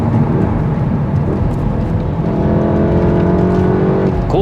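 A Volkswagen Golf R MK7 accelerates along a road with a loud, continuous engine drone, its pitch climbing slightly near the end over steady road noise.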